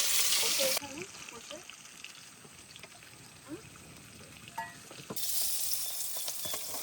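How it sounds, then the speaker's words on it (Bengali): Hilsa fish frying in oil in a home kitchen, a faint crackling sizzle with a few soft clicks, framed by brief louder bursts of noise at the start and end. "তো মাছ ভাজা কিন্তু আমাদের হয়ে গেছে"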